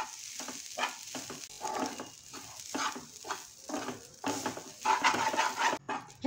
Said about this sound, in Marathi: हे जे खोबरं आहे ते परतून घ्यायचं आहे